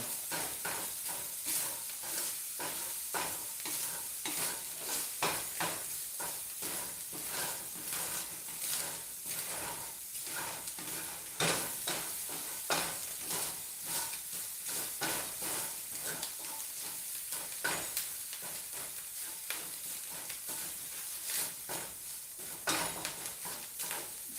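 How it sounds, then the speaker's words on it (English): Sausage frying through in a pan for a sausage, egg, potato and cheese breakfast burrito gives a continuous, fairly quiet crackling sizzle with occasional louder pops and stirring clatter throughout. "Now you're going to cook your sausage all the way through."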